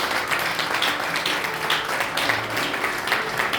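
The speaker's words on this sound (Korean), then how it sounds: "하나님께 영광의 박수 드리도록 하겠습니다" A church congregation at a New Year gathering of northern Gyeonggi Christian churches gives a round of applause, a dense, fairly distant patter of many hands clapping continuously for a few seconds.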